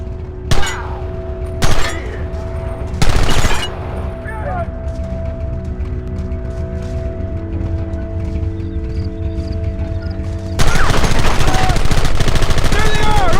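Shootout gunfire in Red Dead Redemption: three loud, sharp gunshot bursts early on, then a sustained heavy barrage of gunfire near the end over a steady game background.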